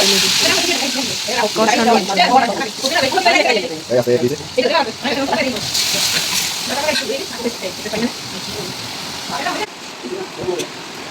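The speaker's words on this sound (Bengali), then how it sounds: "আলুগুলো লাল লাল করে ভেজে নেবে" Steady oil sizzle of potatoes frying in a pan, continuous throughout, with a person talking over it.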